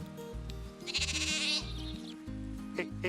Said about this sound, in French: Pour le moment, les moutons sont derrière le jardin